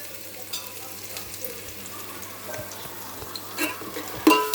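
Ginger garlic paste frying in a pan for pulao, a soft, low sizzle with occasional light stirring taps and a brief louder scrape near the end.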